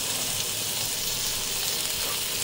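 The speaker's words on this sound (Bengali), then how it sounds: "আমি একটুখানি ভাজা করে নেবো, হালকা ফ্রাই করে নেবো করলাগুলো আগে।" Thin slices of bitter gourd fry in ghee in a pan, producing an even, unbroken sizzle at moderate volume with no voices.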